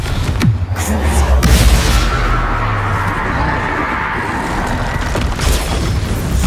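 A Confringo blasting spell goes off in the Hogwarts Legacy video game as a loud booming explosion. A deep rumble swells and then fades into a lingering roar, with a sharper burst near the end.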